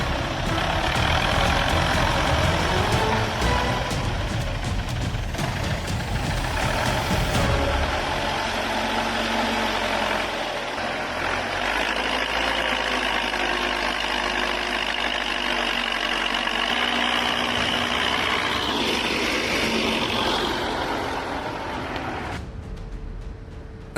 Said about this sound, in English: An exciting tractor transport in action.